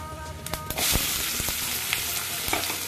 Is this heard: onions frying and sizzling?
yes